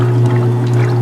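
A Kenmore stackable washer running its cycle after a repair, water pouring steadily inside with a constant motor hum underneath, close and fairly loud throughout with no talk.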